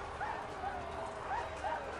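Dog barking in the prison-escape video game Prison Architect, a few short yaps spaced across the clip over a steady background hum of game sound.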